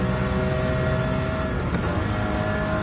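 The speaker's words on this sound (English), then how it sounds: "So to like kind of learn the sound and when this engine's reached its rev limiter." A car engine in Gran Turismo 7 revs up to its rev limiter, around 9,800 rpm, holding a loud, sustained, buzzing tone for a few seconds.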